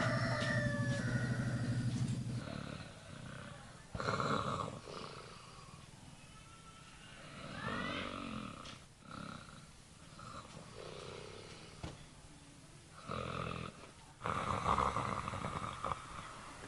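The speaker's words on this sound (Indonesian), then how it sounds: "Udah di ngorok nak." Someone snores in deep, rasping, rhythmic breaths, fairly faint and repeated over several cycles, with no talk.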